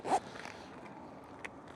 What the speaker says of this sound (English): These are waterproof zippers, by the way